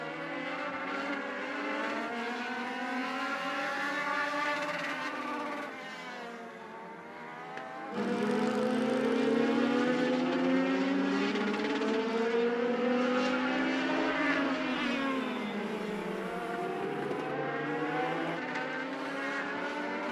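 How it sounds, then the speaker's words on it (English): Legends race cars at Charlotte Motor Speedway roar past coming off turn two. Several engines drone loudly and continuously, rising and falling in pitch as they accelerate, with no voices over them. "Cars making their way off turn number 2."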